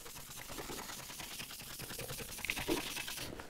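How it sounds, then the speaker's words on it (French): A Tampico fibre brush works wax over a milk-painted surface with steady, close scrubbing strokes in a quick repeated rhythm, alone and fairly soft. "brosse Tampico, on brosse la cire, et ensuite, on peut apporter un petit peu de brillance"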